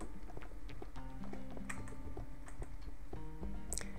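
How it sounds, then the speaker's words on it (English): Rapid typing on a Razer computer keyboard with sharp clicks over a low background hum and some tonal game sounds. "Me and my Razer keyboard are making a lot of noise."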